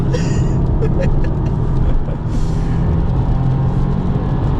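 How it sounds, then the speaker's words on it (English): A 2025 Subaru WRX tS driven hard on a race track, its engine drone loud and steady from inside the cabin with road and wind noise, and a short dip near the middle. "this is the best WRX on track that I've ever driven"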